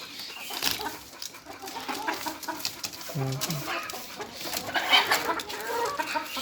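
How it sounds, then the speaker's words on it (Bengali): Native country chickens cluck at a village poultry farm, with several hens calling at close range in overlapping bursts against faint outdoor background noise. "মুরগির খামার"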